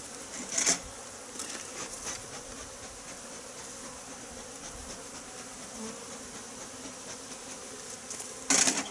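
Honeybees buzzing around an opened hive during autumn apiary work, a steady moderate hum with a few louder passes as bees fly close to the microphone, no talk.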